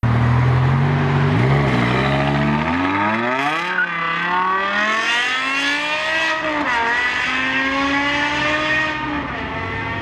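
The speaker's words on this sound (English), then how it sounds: "This is not a normal car sound. This is a race car sound. It screams, and when it hits high RPM" A BMW E60 M5's 500-horsepower V10, which revs to 8,250 rpm, screams loudly as the engine climbs through high revs, rising and falling in pitch in long sweeping pulls.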